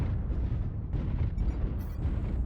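Rumbling artillery strike explosions in MechWarrior Online, a dense, continuous low-end barrage of booms rolling for a few seconds with no voices over it.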